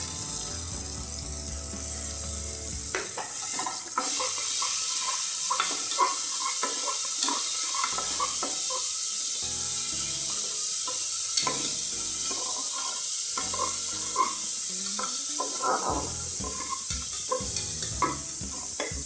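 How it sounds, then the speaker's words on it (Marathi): Turmeric and ground masala sizzle steadily in hot oil for Kolhapuri mutton, with repeated scraping stirs of a spoon over a continuous close frying hiss. "परत थोडीशी मी टाकते तेलामध्ये हळद जो आपण मसाला बारीक करून घेतलाय त्यातले दोन चमचे मसाला टाकते मी आता"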